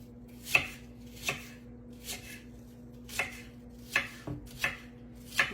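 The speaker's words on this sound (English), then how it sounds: "Just cut little skinny wedges." A knife chops through crisp carrots into skinny wedges on a cutting board, with sharp, fairly regular cuts about every second under a low kitchen hum, close but quiet, no talking.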